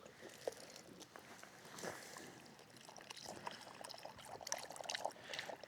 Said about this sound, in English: let's get some water for the dog.